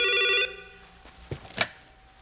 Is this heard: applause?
no